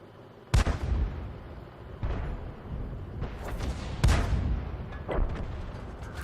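Artillery fire in World of Tanks from a GW Panther self-propelled gun, with several booming shots and impacts at irregular intervals, sharp and loud over a rumbling battle background.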